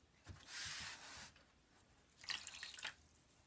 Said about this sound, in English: I'm just cleaning this off right in the water